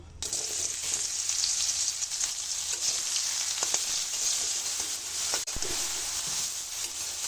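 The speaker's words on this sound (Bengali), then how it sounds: "এই তেলের মধ্যেই আমি সাবিনগুলো ভেজে নেব" Soybean chunks fry in hot oil in a kitchen pan, making a steady, loud, dense sizzle that runs unbroken for several seconds, with a few faint clinks and stirring sounds.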